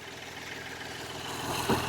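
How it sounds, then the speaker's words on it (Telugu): Diesel engine of a 2016 Hyundai Accent idling nearby, a steady low rumble with a faint rising swell near the end. "ఒకసారి ఇంజన్ టెస్ట్ డ్రైవ్ కూడా చేసి చూపిస్తాను మీకు"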